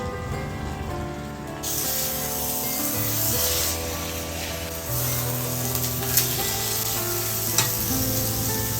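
Dory fish fillets fry in hot oil in a pan, giving a steady close sizzle with occasional scraping and stirring noises as the pieces are moved.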